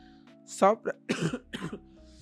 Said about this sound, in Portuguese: tossi aqui. Foi mal aí.